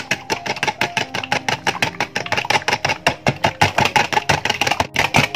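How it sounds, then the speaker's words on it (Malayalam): Egg batter with vanilla essence being beaten in a bowl for an evening snack, a fast steady rhythm of whisking strokes, close and loud throughout with no talk. "ഒന്ന് ബീറ്റ് ചെയ്ത് എടുക്കാം"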